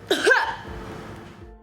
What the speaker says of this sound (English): Taking a deep breath and cough.